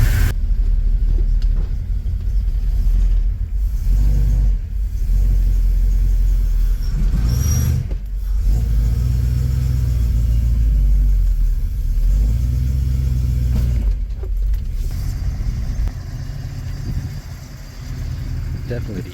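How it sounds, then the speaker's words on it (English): A 1971 Dodge Dart GT Swinger running on old fuel, its engine a steady low rumble with a few brief swells, heard close up with talk over it. "it's running quite nice on old fuel."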